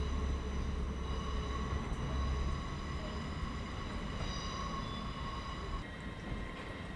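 A train departs Newcastle Station with a steady rumble and several faint sustained high tones, quieting slightly toward the end as it pulls away, heard from the platform with no talking.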